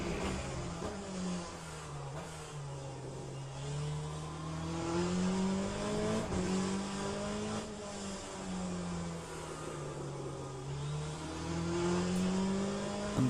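Race car in the sim game Le Mans Ultimate lapping Portimao, its engine droning and rising through the gears with repeated upshifts and lifts, steady and fairly close with no talk.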